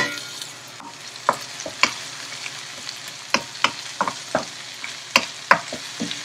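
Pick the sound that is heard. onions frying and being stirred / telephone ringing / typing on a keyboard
onions frying and being stirred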